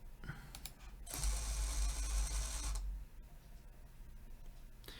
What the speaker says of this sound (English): we see that motor turn for 480 degrees, and then it will go ahead and stop